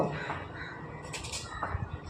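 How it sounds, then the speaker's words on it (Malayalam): A crow caws a few times at a distance over quiet outdoor background noise. "കാക്ക നേരത്തെ എത്തിയിട്ടുണ്ട് കേട്ടോ"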